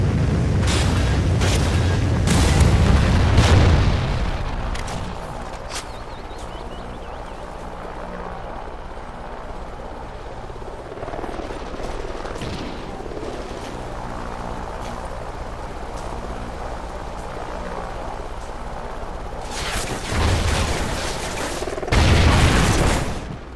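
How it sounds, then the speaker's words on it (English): Trinity rocket strike in Call of Duty: heavy booming blasts open the sequence, a quieter rumbling stretch follows, and another loud cluster of explosive booms hits near the end. "Friendly Trinity rocket inbound."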